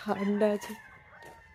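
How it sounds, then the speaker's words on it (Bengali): A rooster gives a short, nearby crow on a village morning in Purulia, West Bengal, the call fading after under half a second. A voice speaks briefly over it. "কি মুরগির ডাক, বাপরে।"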